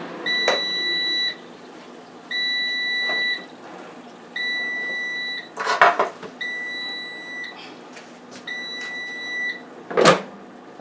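A Power Air Fryer Oven beeps in a steady series of long, even tones with short gaps between them, signalling that a turkey meatloaf has finished cooking, and a few clanks and knocks sound nearby between the beeps.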